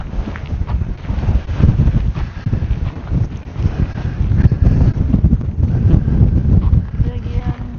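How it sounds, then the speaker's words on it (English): Strong, gusty wind roars across the microphone on an exposed rim of Picture Canyon near Sunset Crater volcano, a loud, continuous buffeting rumble with constant rough surges and no clear pauses. "This wind is horrible up here."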